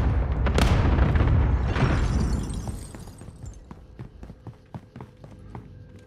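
Cluster strike explosions in Call of Duty Warzone: a heavy boom followed by rumbling blasts, then a string of sharp, scattered pops and crackles fading over several seconds.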